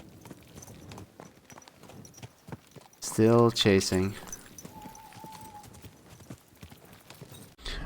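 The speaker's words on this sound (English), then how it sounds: "Oh, almost mounted the wrong horse and stole it." Horse hooves clip-clopping in the medieval game Kingdom Come Deliverance 2, a quick burst of close, loud strikes in the middle, with someone talking quietly before and after.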